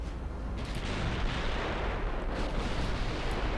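Heavy naval artillery booms in Ultimate Admiral Dreadnought, a dense, continuous rumble of return fire and explosions at sea, loud and sustained with no talking.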